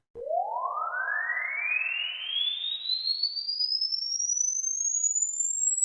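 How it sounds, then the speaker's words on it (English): A pure sine tone glides steadily upward from low to high pitch over several seconds, smooth and continuous at moderate level. "Let's stick up the already sweeping tone, which goes from low to high."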